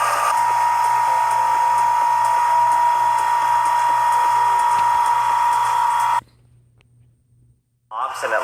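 A vacuum chamber pump runs steadily, drawing air out of clear slime with a loud, constant droning hum that cuts off abruptly near the end, followed by a brief quiet and a short burst of sound.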